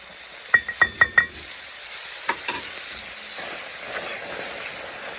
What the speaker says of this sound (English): we're just going to let this flour cook for a little bit